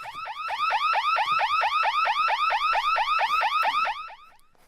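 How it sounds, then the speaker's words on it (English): A radio show's 'terrible story alert' sound effect: a car-alarm-style electronic whoop cycling rapidly about twenty times at a steady, loud level for roughly four seconds before cutting off, with no talk over it. "That's the terrible story alert."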